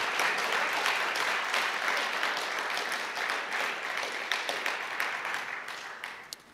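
Audience at a security conference applauds prize announcements, with dense, steady clapping across the whole stretch that slowly thins toward the end, a few sharper claps standing out.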